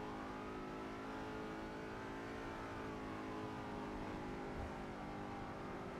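A sports car engine in Grand Theft Auto roleplay driving hard, a loud steady drone with a slowly rising and falling pitch, close and continuous with no talking.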